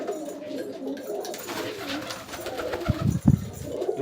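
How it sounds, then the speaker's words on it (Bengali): A pigeon in a backyard cage setup coos softly, then brief flutters of wingbeats burst out close by as the bird is released and flies off. "উড়ে গেছে পায়রাটা।"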